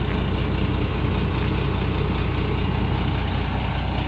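An overloaded Chinese-made truck's engine drones in a continuous heavy low rumble, loud and close, steady throughout with no voices.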